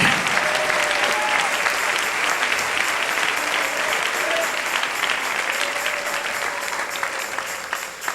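A church congregation claps loudly and continuously for the King, a thick, sustained wall of applause with faint voices calling out underneath.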